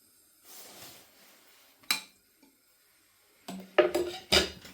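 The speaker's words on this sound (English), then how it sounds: "we'll start with a layer of bolognese on the bottom" Bolognese sauce is spooned into the bottom of a slow cooker for lasagne: a soft wet scrape, then a pause, then several sharp clinks and knocks of a spoon against the ceramic pot.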